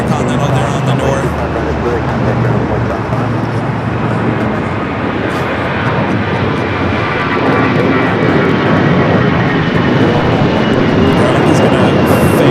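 Jet engines of Boeing 747-8 airliners at Los Angeles airport give a loud, continuous broad roar that swells slightly midway, heard from a distance with a voice talking over it.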